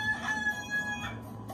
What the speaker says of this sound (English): roaming roosters